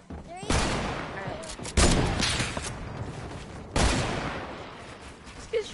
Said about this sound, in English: Okay, I'm gonna shoot the wall again.